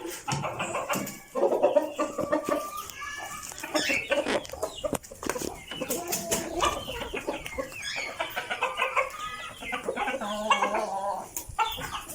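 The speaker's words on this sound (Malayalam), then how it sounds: "നമ്മുടെ നാടൻ കോഴികളാണ്" Domestic native hens cluck and murmur repeatedly, several birds close by, with a few louder squawks breaking through; no talking.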